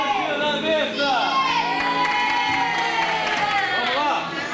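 Children gathered around a table at a school activity event cheer and shout in a loud, sustained burst, with whoops and some clapping mixed into the crowd noise.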